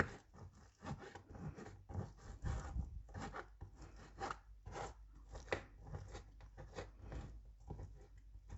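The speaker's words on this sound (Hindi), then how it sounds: "सबसे पहले मैं खजूरों की गुठलियाँ निकाल लूँगी और इनको छुरी से बारीक बारीक काट लूँगी" A knife chops pitted dates finely on a board, making faint, quick, rhythmic cutting and scraping strokes that continue steadily throughout.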